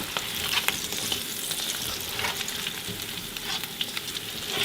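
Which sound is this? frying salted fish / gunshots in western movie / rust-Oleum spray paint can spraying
frying salted fish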